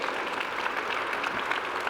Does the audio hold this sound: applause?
yes